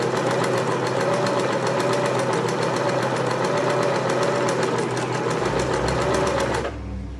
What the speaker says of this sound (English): So now I'm going to sew this one.